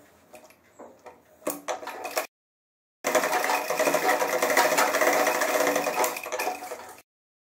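A sewing machine stitches a straight seam along a double-welt back pocket on trousers, running in a few short stop-start bursts, pausing, then racing in one steady, even run for several seconds.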